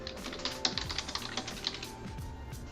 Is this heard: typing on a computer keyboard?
yes